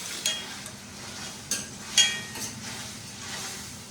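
Chicken marinated in turmeric, salt and chilli frying in a pan, a steady soft sizzle broken by a few sharp clinks and scrapes of a spoon against the metal.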